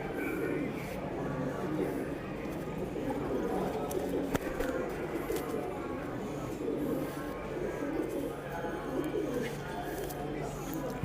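Pigeons coo and murmur throughout a pigeon loft, with soft, continuous cooing under a steady ambient background and occasional speech nearby.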